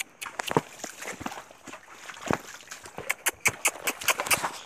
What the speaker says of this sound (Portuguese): Ah, cavalo!